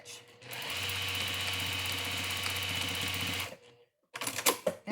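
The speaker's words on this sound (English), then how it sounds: "Now this machine does not have a zigzag, so I have to do a straight stitch with it." A sewing machine straight-stitches elastic onto a pleated face mask, running as a steady, close, loud mechanical whir for about three seconds, then stopping and giving way to a few clicks and handling noises.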